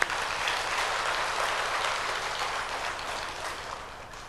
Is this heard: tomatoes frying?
no